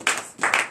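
Congregation at a morning prayer service applauding, two short bursts of clapping, fairly close and alone.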